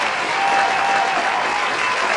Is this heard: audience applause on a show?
yes